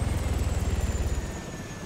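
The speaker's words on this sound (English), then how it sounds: "I can hear a helicopter right above us." A helicopter passes low overhead, its rotor thumping in a steady rapid beat and a turbine whine running above it. The sound is loud at first and eases slightly as it moves off.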